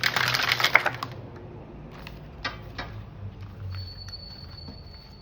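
Light Seers Tarot cards being shuffled by hand, a burst of dense papery riffling up front, then sparse soft flicks and taps, close and fairly quiet.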